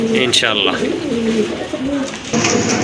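Satin pigeons coo softly in low, rolling murmurs, with rustling and a brief higher squeak over steady background noise.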